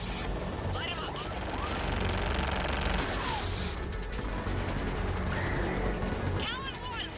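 In Mass Effect 3, aircraft gunfire strafes ground targets as steady rumbling volleys and booms over roaring engine noise, with radio voices talking throughout.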